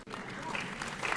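Applause from the audience at the New Mexico State of the State address interrupts the governor, a soft, steady clapping in a large hall heard at a distance.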